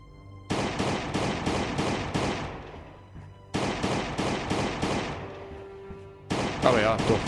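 Weapon fire in the zombie survival game Last Day on Earth: three loud bursts of rapid gunshots, each lasting a couple of seconds, separated by short pauses, with faint game ambience between them.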